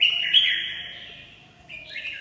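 Pet birds in a bird shop chirp and tweet in clear, bright calls, a sustained trill followed by a short pause and then fresh chirps close to the microphone, with no talking.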